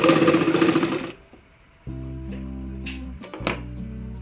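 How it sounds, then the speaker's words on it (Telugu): Close sewing machine stitching a hair extension, bursts of fast rhythmic mechanical whirring with brief pauses between runs, no talk. "నేనైతే మిషన్ మీద పెట్టి కుట్టు వేస్తున్నాను అనమాట."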